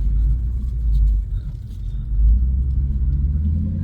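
Deep, steady low rumble of a car engine through an Apex'i non-resonated exhaust, close and continuous, swelling slightly at moments with no talking.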